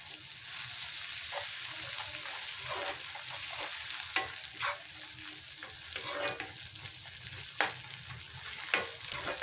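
Garlic sizzles in hot oil in a pan while being stirred for an Assamese eggplant pitika and goroi fish dish, a steady close crackle with occasional scraping clicks from the spoon.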